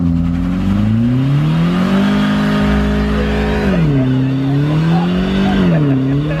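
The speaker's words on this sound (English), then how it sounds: "There it is. The front wheel drive burnout." Front-wheel-drive car doing a burnout in a parking lot, the engine held at a loud steady drone that rises and dips with throttle, tires hissing and squealing beneath, close by.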